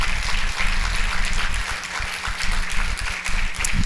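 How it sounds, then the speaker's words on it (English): Audience applause at a school district State of the Schools event for a departing official, a steady broadband patter of many hands clapping throughout, moderately loud and continuous with no talk over it. "Parent a round of applause."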